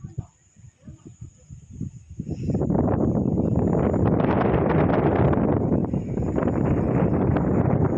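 Strong wind buffets the microphone in a loud, steady roar after a quieter start with faint rustling.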